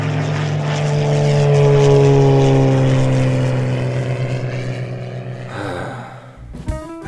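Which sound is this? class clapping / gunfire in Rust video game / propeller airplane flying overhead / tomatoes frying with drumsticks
propeller airplane flying overhead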